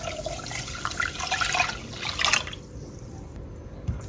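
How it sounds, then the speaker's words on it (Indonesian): Water is poured into a powdered pudding mixture, a soft splashing trickle with bright liquid bursts that fades partway through before a brief final splash. "tambahkan 700 ml air"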